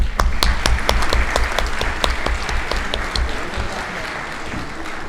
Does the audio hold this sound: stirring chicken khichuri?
no